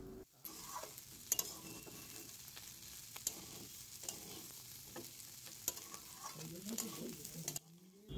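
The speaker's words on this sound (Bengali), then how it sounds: "চালটা বেশ ভালো করে ভেজে নিতে হবে।" Rice frying in a pan sizzles quietly and steadily, broken by repeated scraping strokes as it is stirred.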